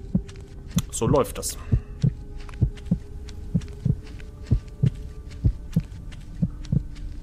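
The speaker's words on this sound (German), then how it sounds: "Der Herzschlag wird wieder ruhiger." Heartbeat effect from the horror video game Screaman, a steady slow thumping pulse repeating about every 0.6 seconds over a low hum, with a brief spoken phrase near the start.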